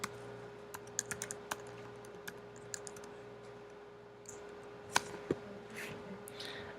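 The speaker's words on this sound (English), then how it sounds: "let's say I typed in Obama." Computer keyboard typing: sparse, distinct key clicks in short bursts, close and fairly quiet over a steady low hum, with no talking.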